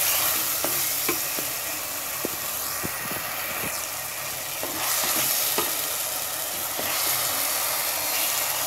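Fish pieces fry in hot oil in a pan for a Tamil fish curry, a loud, steady sizzle that runs throughout, dotted with light ticks and scrapes as the fish is stirred.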